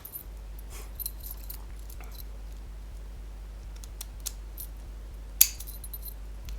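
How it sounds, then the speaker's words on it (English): Padlock keys on a chrome and brass lock, light metallic jingles and clicks scattered across several seconds, with one sharper clink near the end over a quiet background hum. "I have keys for this one"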